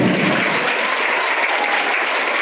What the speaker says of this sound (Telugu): మనం అందరం చప్పట్లతో వెల్కమ్ చేస్తున్నాం